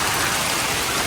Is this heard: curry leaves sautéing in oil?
no